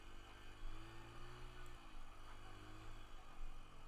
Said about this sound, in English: right now he's shifting into second gear